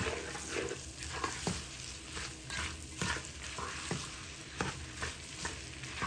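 Okra fries in a pan with a continuous close sizzle, broken by scattered scraping stirs and small crackling pops, with no voices.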